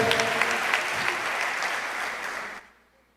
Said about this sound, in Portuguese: Você pode aplaudir a Jesus, querido.